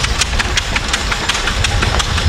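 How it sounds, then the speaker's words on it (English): A loud, close Townsend vintage gas tractor engine chugs in a quick, regular rhythm of sharp exhaust pops, running steadily in a threshermen's reunion parade in Austin, Manitoba. "Gas engines, and we've got a Townsend coming in."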